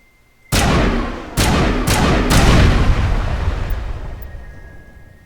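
Four heavy, booming shots from a weapon in the video game Mass Effect, loud and close, each ringing out with a long rumbling tail that fades slowly after the last blast.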